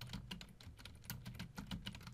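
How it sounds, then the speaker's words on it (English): Random typing on a computer keyboard, a quick uneven run of close, soft key clicks and taps with no voices. "just causing some disk activity or just randomly typing"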